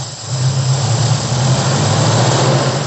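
Toyota Corona engine running steadily just after a new carburetor is fitted, a loud, continuous idle drone close by with no talk.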